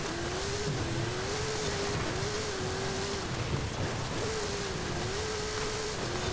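A 1958 Plymouth Fury with a stock 5.7-litre V8 drones steadily through an offroad drive in Forza Horizon 5, its engine note holding a continuous hum that gently wavers in pitch throughout.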